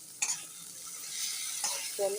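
Pointed gourd (potol) frying in a pan gives a steady, soft sizzle, broken by two brief scraping stirs and a short clink near the end.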